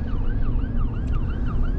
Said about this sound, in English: We got an ambulance over here.